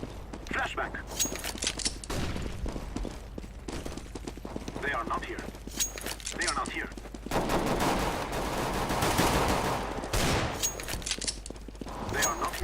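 Glock-18 pistol fire in CS:GO, rapid bursts of shots cracking repeatedly across the whole stretch, busy and mid-loud, with game noise and voices mixed underneath.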